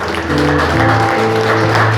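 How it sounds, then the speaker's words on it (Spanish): A congregation claps during a church prayer service, steady applause under sustained organ-like tones that swell through the whole stretch. "Dale ese fuerte aplauso, Señor"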